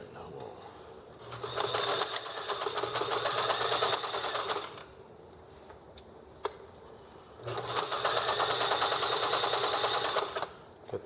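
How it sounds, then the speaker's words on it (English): A sewing machine top-stitching a fabric drawstring bag, running in two rapid mechanical bursts of a couple of seconds each with a quiet gap between, close and fairly loud. "get this top stitched here"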